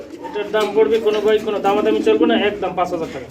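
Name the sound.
male pigeon cooing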